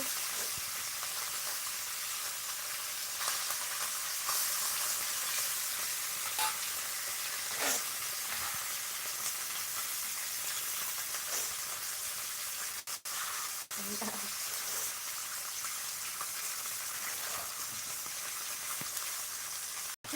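Food frying in a pan as someone cooks, a continuous faint sizzle and hiss with occasional stirring scrapes and small clicks throughout.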